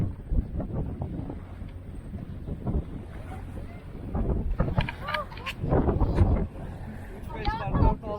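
Small fishing boat out after kofana and bass, pitching in rising wind and waves: loud gusty wind rumble on the microphone with splashing water and hull knocks, voices talking over it.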